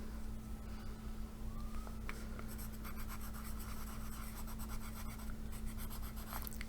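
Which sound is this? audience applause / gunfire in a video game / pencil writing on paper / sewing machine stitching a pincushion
pencil writing on paper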